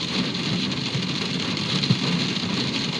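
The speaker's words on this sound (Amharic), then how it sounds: "ዝናብ ግን ወላሂ በጣም ደስ ይላል" Rain falls in a steady, even hiss that stays constant throughout, heard from inside a car.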